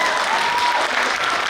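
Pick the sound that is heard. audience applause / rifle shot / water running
audience applause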